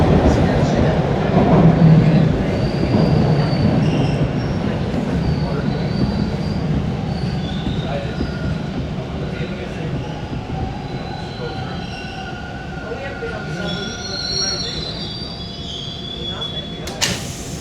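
Toronto subway train on Line 2 pulling into Woodbine Station, a loud sustained rumble of wheels on rail with high squealing tones as it slows, heard close from the platform with background station noise throughout.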